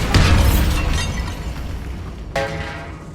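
A Bombarda blasting spell detonates in Hogwarts Legacy, tearing open a bone-stacked archway in a tomb. It lands as a loud, booming explosion with shattering debris that rumbles away, followed by a brief metallic ring.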